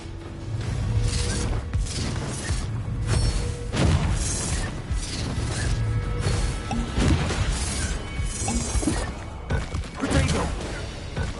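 Confringo blast spells exploding in Hogwarts Legacy amid a magical duel: repeated crashing bursts and impacts in quick succession over continuous combat noise, with voices talking throughout.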